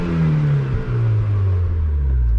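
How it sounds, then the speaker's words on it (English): A 2002 Mazda MX-5 NB with an unmodified 1.6 engine revs loudly and close up, a deep droning exhaust note that dips briefly before rising again with a steady rumble; no distinct pops stand out. "we do get a few pops if you sort of tap the throttle"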